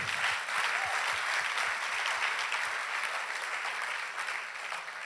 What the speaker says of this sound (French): Je crois qu'on devrait applaudir cela.